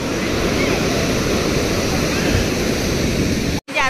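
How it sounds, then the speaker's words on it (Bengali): Water gushes strongly and steadily in a loud, broad rush close by, cutting off abruptly near the end. "এই শোনা, জল আসছে জোরে।"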